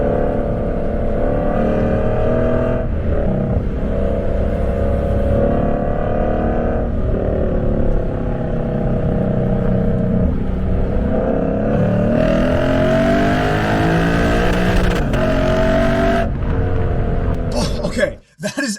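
A Lexus RC F V8 rips through a rev-matched downshift, the engine note climbing and falling in steady harmonic sweeps, loud and close for the whole stretch, with a brief cut near the end.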